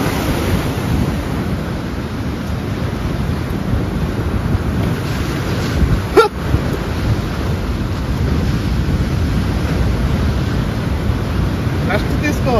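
Ocean waves crash and surge at Thotlakonda beach near Visakhapatnam, a steady loud broadband roar with wind buffeting the microphone and one brief sharper burst around the middle.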